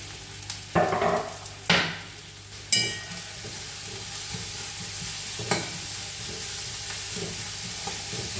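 Chopped onions hit hot coconut oil with a few sharp bursts of sizzle, then settle into a steady, close frying hiss broken by occasional stirring scrapes; no one speaks.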